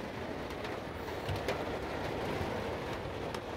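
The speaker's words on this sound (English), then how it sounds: "the rains have finally commenced" Steady rain falling outdoors, a dense even hiss with a few sharper drips and patters, moderately loud and continuous with no voices.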